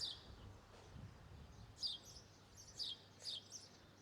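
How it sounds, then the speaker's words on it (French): Small bird chirps in short bright bursts in Malta, several spaced calls over a low steady background hum, moderately distant and fairly faint. "il y a un petit oiseau là qu'on entend depuis tout à l'heure"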